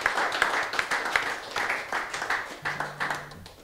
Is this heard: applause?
yes